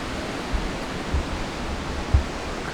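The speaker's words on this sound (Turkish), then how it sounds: "Bu şelalenin özelliği ne? Kayanın içinden çıkıyorsun." A canyon waterfall pouring out of rock in the Western Black Sea region, heard as a steady broadband rush of falling water with a few soft low thumps, no voices over it.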